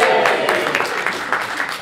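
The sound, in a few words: audience cheering at a talk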